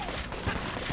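A quick, dense burst of gunfire from a weapon in the bullet-hell game Enter the Gungeon, loud and continuous across one short second.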